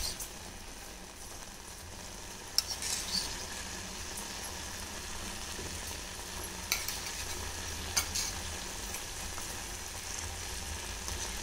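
Three spoons of oil sizzle in a pan while being stirred for Uttara Karnataka pundi palle, a steady soft frying hiss with occasional scraping clinks of the spoon.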